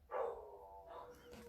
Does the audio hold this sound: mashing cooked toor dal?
no